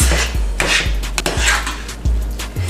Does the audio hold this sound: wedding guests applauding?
no